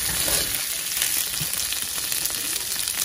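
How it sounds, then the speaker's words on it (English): Chorizo frying and sizzling in a pan, a steady dense crackle that holds close and even throughout, with no talking. "we're cooking down the chorizo"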